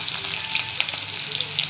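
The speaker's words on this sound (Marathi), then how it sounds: "आता कांदा भाजून घेऊया" Onion frying in hot oil with cumin and mustard seeds for a cabbage dish, a steady close sizzle and crackle that runs through the whole short stretch without talk.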